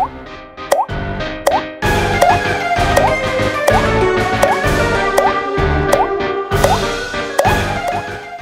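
Drops from a dripping faucet fall into a sink, loud and close plops repeating at a steady, even pace of roughly one every three-quarters of a second over a continuous background.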